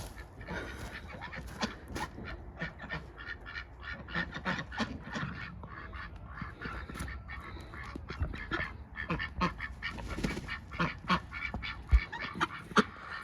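Ducks quack repeatedly and excitedly on a smallholding in freezing winter weather, a busy overlapping chorus of calls close by, with a few louder honks standing out near the end and no talking.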